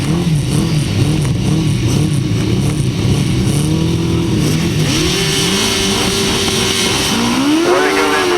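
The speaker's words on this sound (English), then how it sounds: "Away they go then with the first year 1000cc sidecar action." Several 1000cc racing sidecar outfits roar off the line at a grasstrack race start, engines revving hard and rising in pitch together, loud and close, with a crowd-like wash of noise behind.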